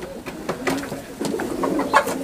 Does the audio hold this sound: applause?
no